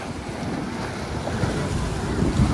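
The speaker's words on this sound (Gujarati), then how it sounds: "અહીં પગથિયે જ મોજા મારે" Sea waves at Dwarka slapping against the ghat steps, a steady churning surge of water with wind buffeting the microphone, swelling slightly toward the end and with no speech.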